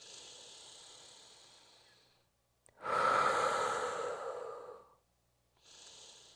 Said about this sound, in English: I'm going to inhale, back body expansion, exhale, engage, inhale